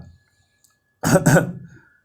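A single close cough and throat clear, a brief double rasp after a moment of near silence, fading quickly.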